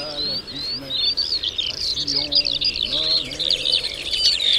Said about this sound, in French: Plus de 40 espèces d'oiseaux sont répertoriées ici